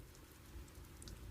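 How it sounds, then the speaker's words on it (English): Gentle rain falls steadily in a soft, continuous patter, faint and close, with no voices. "the rain will continue its gentle work"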